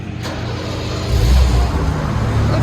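A 1984 BMW 650 CSi with a 3.2-litre inline-six sends out a steady, close exhaust rumble that swells louder for a moment as the engine is revved, with no talking.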